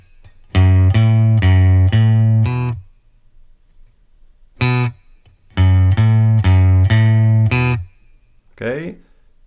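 Electric guitar playing the opening riff of Alice Merton's "No Roots": a close, loud burst of repeated chugging notes, a pause, a single hit, then the repeated notes again ending with a quick slide, played alone.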